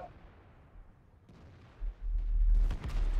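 A heavy IS-6 tank cannon fires in World of Tanks, a deep booming blast rolling in about halfway through and holding as a loud, low rumble to the end.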